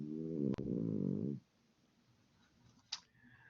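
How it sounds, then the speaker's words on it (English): Someone snores nearby with one long, buzzing, drawn-out breath that cuts off abruptly. A quiet low rumble and a single sharp click follow. "Somebody's snoring."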